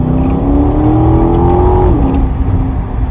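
An Aston Martin 4x4's V8 engine revs up with a rising whine and then drops back, heard from inside the cabin, loud and steady throughout.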